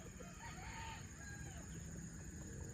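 A rooster crows at a distance on a farm, with scattered clucking from chickens over a steady background hum.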